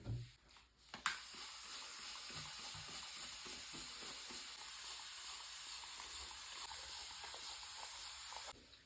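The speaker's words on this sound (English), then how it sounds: "Gonna give those a quick spritz." Quick hiss of a spray bottle misting water over young seedlings, a steady soft spray lasting several seconds, close and fairly quiet, with no voices.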